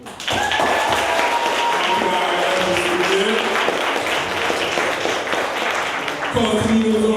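Dense, steady clapping from a crowd at a poetry event fills the space for several seconds, with a few voices and tones mixed in underneath.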